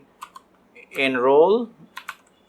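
A few quick keyboard clicks from typing Python code sit before and after a short stretch of someone speaking.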